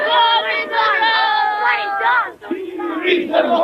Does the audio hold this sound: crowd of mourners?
yes